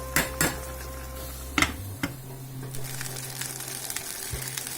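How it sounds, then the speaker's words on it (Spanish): Cooked meat being shredded for tortas de carne brings a few sharp clinks of utensils against a dish, followed by soft scraping and rustling, close and fairly quiet, with no talk. "Una vez cocida nuestra carne, procederemos a deshebrarla."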